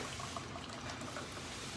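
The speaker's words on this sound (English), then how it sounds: "I'm going to pour that in my glass" Mai Tai cocktail poured from a shaker into a glass, a soft continuous liquid trickle and splash, faint and steady with no talk.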